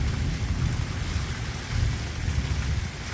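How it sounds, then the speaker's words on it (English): Rain falls steadily in a continuous, even hiss with a low rumbling undertone, close and fairly loud, with no voices. "as the rain begins to fall."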